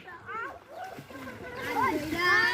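Children swimming during a swimming lesson, with loud water splashing building toward the end while children's voices and shouts ring out over it.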